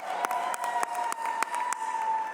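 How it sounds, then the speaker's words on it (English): An audience at a game developer awards ceremony applauds the Chaos Theory team, a steady patter of claps with sharp individual slaps standing out, moderately distant and without talk. "Round of applause for the Chaos Theory team quickly"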